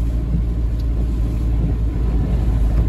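A car drives through a flooded roundabout in Nikšić during heavy rain, its low engine rumble and road roar steady and close throughout, with no talk.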